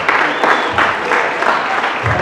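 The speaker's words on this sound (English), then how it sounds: "Give him a round of applause." Audience applause at a high school movie festival, honoring a teacher: dense, close clapping that swells and eases in waves, with faint crowd noise mixed in.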